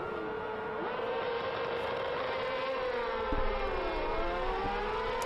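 Sidecar World Championship racing machines screaming off the start at Assen, a dense pack of high-revving engines wailing loudly together with shifting pitches and rising tones, close and continuous.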